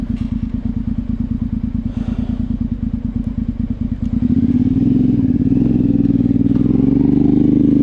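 A motorcycle engine thumps in a rapid, steady pulse, then swells into a louder, smoother drone as the bike is ridden off. It is close by and no one speaks.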